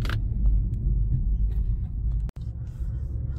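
A car rolling through a maze of lanes on the way to a vaccination site, with a steady close low engine and road rumble from inside the cabin, broken by one brief sharp click.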